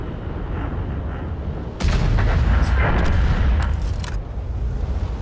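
Artillery fire booms heavily in the World of Tanks game, a loud sustained blast that rumbles on for a few seconds over a steady background roar.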